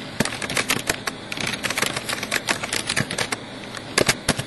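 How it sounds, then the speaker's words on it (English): Rapid, uneven clicking of keys being typed close by, a steady stream of sharp taps with a few louder strikes and no talking. "Typing very carefully."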